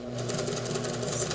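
A sewing machine stitches a rolled edge hem on chiffon with a close, steady rapid whirring and ticking through the whole short stretch.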